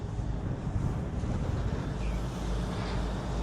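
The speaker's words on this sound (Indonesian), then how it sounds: "Ini mulai lagi bertiup angin sama ombaknya." Wind gusts over the rough Java Sea with waves churning below, a dense, blustery roar that buffets the microphone steadily without letup.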